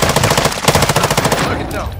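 Rapid automatic gunfire in Call of Duty: Warzone 2.0, a dense burst of loud repeated shots for about a second and a half, then fading into a quieter tail.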